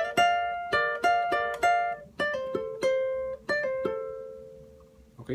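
A phrase from an Ecuadorian albazo on guitar: about a dozen bright plucked notes in quick clusters with slurred notes, each ringing and decaying, ending on a held tone, close and solo.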